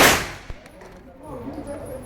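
Single loud shotgun blast at the start decaying into a ringing echo outdoors, followed by quieter rustling and a faint knock.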